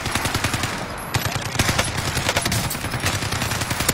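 Rapid automatic gunfire from Call of Duty, a dense stream of sharp, loud shots in quick bursts with brief gaps, close and continuous over a few seconds.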